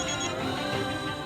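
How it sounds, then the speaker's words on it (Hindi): A mobile phone rings with a continuous, dense electronic tone held steadily throughout the short moment, fairly loud and close with no voices over it. "आपका फोन बज रहा है।"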